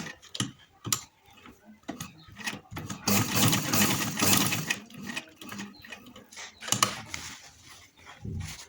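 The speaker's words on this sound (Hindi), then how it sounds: "सबसे पहले हम यहाँ पे इलास्टिक के ऊपर इस साइड पे सिलाई लगाएंगे" A sewing machine stitching along the top of the elastic on trousers, with short irregular bursts of rattling mechanism that build into a longer steady run before stopping and starting again.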